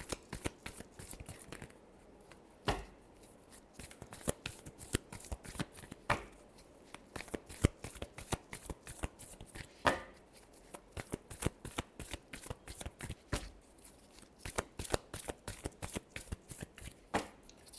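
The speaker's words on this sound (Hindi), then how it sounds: "Last shuffle." Tarot cards are shuffled by hand in quick, crisp riffles and slaps, a close, continuous run of sharp paper clicks with brief pauses between bursts.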